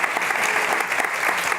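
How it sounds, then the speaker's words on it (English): An audience applauds continuously at a book talk, a dense, steady wash of clapping heard close and alone. "Can we give a huge round of applause for Molly?"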